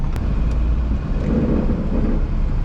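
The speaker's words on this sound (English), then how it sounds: "These are the sounds that your car should be making." A daily-driver car engine runs steadily nearby, a continuous low rumble with wind buffeting the microphone and no voices.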